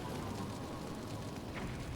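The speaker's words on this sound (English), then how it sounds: "Cool guys don't look at explosions." Low, rumbling blast in Zelda: Twilight Princess HD, a dense, muffled explosion that fills the whole clip with a continuous roar rather than a sharp crack, heard fairly faint and without any talk.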